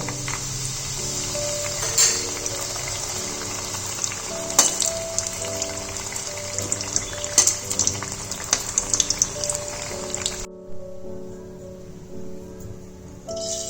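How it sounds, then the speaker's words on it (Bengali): Bori, Bengali lentil dumplings, frying in hot oil in a kadai: a steady close sizzle and crackle with scattered pops, dropping to a quieter hiss near the end. "এবার এর মধ্যে বড়িগুলোকে ফ্রাই করে নেব।"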